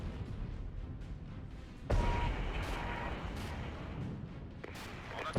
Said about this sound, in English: Mortars are working hard.